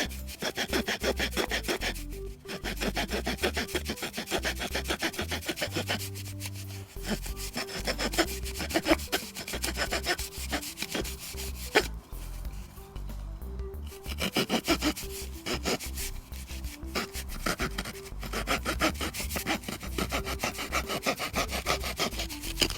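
The small saw blade of a Victorinox Farmer pocket knife cutting through a thin wooden rod outdoors, steady rasping back-and-forth strokes close up, with a few brief pauses before sawing resumes to the end.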